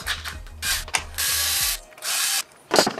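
A ratchet wrench backs out two 10 mm bolts with fast, close clicking bursts. The ratcheting comes in several short runs with a final rattle near the end, and there is no speech.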